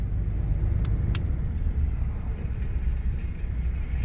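A Volvo I-Shift truck engine rises to about 1000 rpm, giving a steady low rumbling drone that holds evenly throughout, with a couple of faint high clicks near the start.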